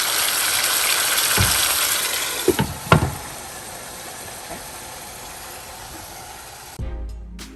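Meat pieces for rice bowls frying in a pan, a broad steady sizzle and hiss with a few sharp knocks partway through, cutting off abruptly near the end.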